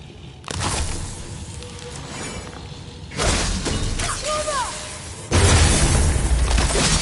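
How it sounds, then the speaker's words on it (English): A Leviathan axe smashes objects apart in God of War on PS4, three heavy shattering crashes spread across the stretch, each followed by debris noise, with brief whooshes in between. "I'll never get tired of shattering things with this."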